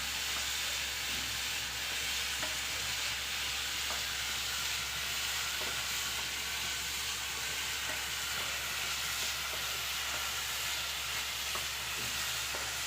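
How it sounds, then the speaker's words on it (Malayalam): Small bananas fry in ghee with steady, even sizzling and hissing that carries on unbroken throughout, with faint scrapes from the stirring underneath. "പഴമെല്ലാം ഈ നെയ്യിൽ കിടന്നൊന്ന് വെന്ത് കിട്ടണം അതുവരെ നമുക്ക് ഇളക്കി കൊടുക്കാം"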